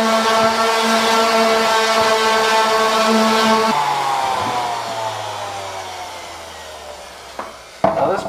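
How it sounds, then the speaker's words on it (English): A power sander whirs loudly and steadily on a Rocket Bunny widebody kit for a Scion tC, then its pitch drops as it spins down, followed by a few knocks and handling sounds. "Power sander time."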